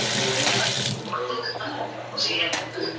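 A tap runs steadily into a sink during washing up, a continuous close splashing flow that fades a little partway through, with people talking nearby.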